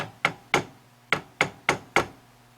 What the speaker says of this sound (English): Do the old tap test.